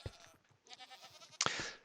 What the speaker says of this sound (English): every once in a while you can hear a screaming goat in there